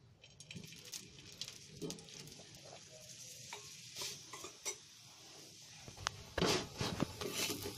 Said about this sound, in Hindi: अब हम इसमें लगाएंगे अपना तेल और इसे धीरे गैस पे सेकेंगे